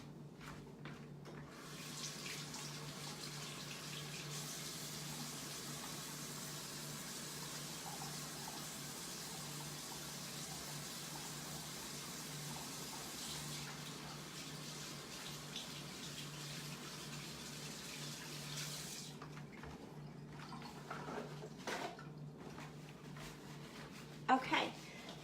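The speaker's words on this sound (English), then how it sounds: "let me just wash my hands" Tap water runs steadily into a sink during handwashing in a home kitchen, a soft even splashing stream lasting most of the stretch before cutting off, followed by a few faint clunks near the end.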